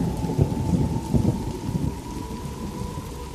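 Heavy rain pours with rolling thunder rumbling low beneath it, a dense continuous roar that swells early and then settles into a steady downpour.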